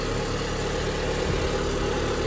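A Renault Duster 2.0 16v engine idles after a timing belt change, a steady, close, loud hum with no talk.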